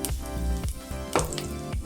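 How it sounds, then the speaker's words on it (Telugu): Tempering seeds sizzle and crackle in hot oil in a kadai, a dense close-up frying hiss with sharp pops scattered throughout and no talking. "ఇక పోపు గింజలు వేసుకోవాలి"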